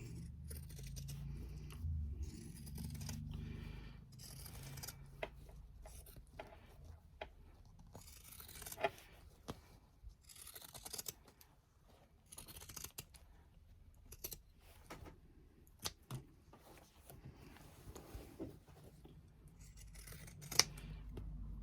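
Scissors snip repeatedly while cutting small triangular notches into the seam allowance of a sewn fabric bag, a steady run of close, crisp blade closes and fabric rustle with no talking.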